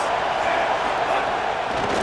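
Dense, loud roar of a stadium crowd in the College Football 27 video game, a steady wall of noise with a murmur of voices blended in.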